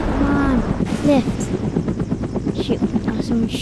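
Gunfire in a helicopter video game, rapid shots crackling over a constant droning rotor and engine noise, with a voice talking over the top.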